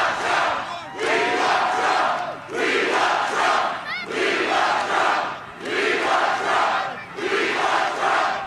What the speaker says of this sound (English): Has there ever been a crowd chanting, "We want Biden"?